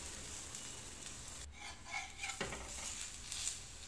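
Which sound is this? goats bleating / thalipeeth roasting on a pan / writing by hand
thalipeeth roasting on a pan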